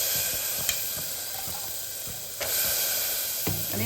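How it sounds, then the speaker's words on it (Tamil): Karamani beans dropped into hot oil and cooked masala in a pot, a steady close sizzle and hiss with occasional soft stirring scrapes, no talk. "நம்ம இந்த ஸ்டேஜில் காராமணியை சேர்த்துடலாம்"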